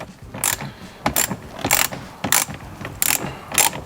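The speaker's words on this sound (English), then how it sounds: "So quite a lot of bolts we got to undo." A hand ratchet undoes bolts on an Audi C4, short bursts of rapid clicking repeated about six times in quick rhythm, close up and crisp.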